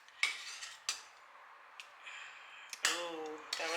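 Metal tongs clinking against a pan while chicken browns, several sharp separate clacks and taps over a faint background, with a voice heard briefly near the end.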